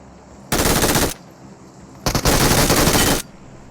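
Two long bursts of rapid automatic fire from an M249 machine gun in a PUBG-style battle royale game, loud and close, separated by a short quiet gap.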